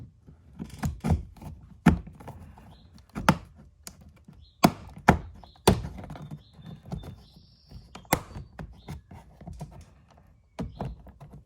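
Prying up an interior door panel on a Honda Civic: a string of sharp plastic thunks, snaps and clicks at close range, irregular and fairly loud, with no talking.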